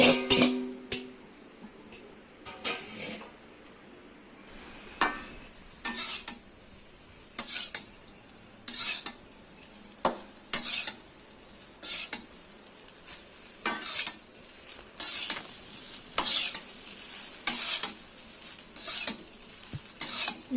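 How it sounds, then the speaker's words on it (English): Rice is stirred in a pan for Kashmiri fruit pulao, with a spoon scraping in regular rhythmic strokes, each a short rasping swish about every second over a faint sizzle, close and clear. "Now add the rice and mix it well"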